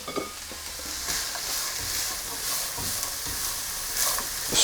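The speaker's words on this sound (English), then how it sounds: "So I'll saute these with just a little bit of oil" Carrots and onion softening in a little oil over low heat for shepherd's pie, a soft continuous sizzle with occasional gentle stirring sounds, close and moderately quiet, no voices.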